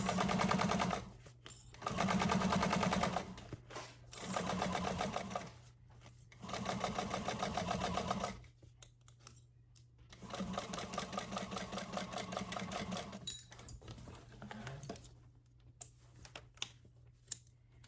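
A sewing machine sews an appliqué bag seam straight across in several close bursts of fast, even stitching, each lasting one to two seconds, separated by short quiet gaps and a longer run near the end.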